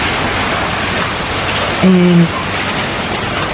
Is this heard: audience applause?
no